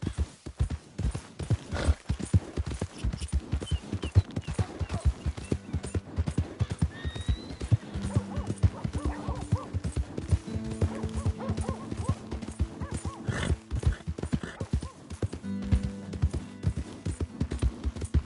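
Rhythmic clip-clop of horse hooves at a steady gallop in the video game Red Dead Redemption 2, close and continuous, with a brief whinny and tonal game music swelling underneath.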